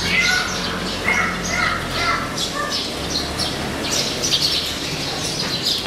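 Temple birds calling in Mandalay, Myanmar, with repeated chirps and caws scattered over a continuous outdoor ambience and a low rumble of background noise.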